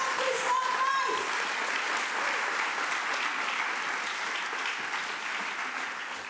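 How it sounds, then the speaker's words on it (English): An audience at an Indigenous Liberation Day event breaks into sustained, dense applause that fades slightly toward the end, with a few voices and a brief whistle near the start. "Give one more round of applause,"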